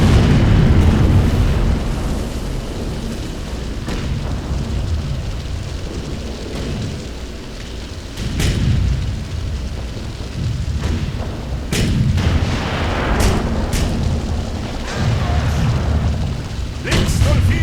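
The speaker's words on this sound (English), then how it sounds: "Oh, something's firing at me." Heavy explosions and gunfire from the World War II strategy game Sudden Strike 3, German campaign: a continuous rumbling battle bed punctuated by several sharp booms and bursts, loud and dense.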